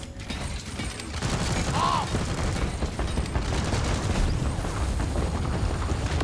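Sentry gun turrets in the mining shooter Deep Rock Galactic chatter in dense, rapid mechanical bursts, loud and continuous, with clattering gear-like noise filling the scene.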